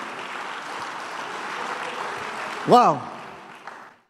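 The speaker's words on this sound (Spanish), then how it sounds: "Dale un aplauso a Dios." A church congregation applauds in a steady wash of clapping, fairly close and even, while a voice briefly exclaims over it near the end before the clapping fades.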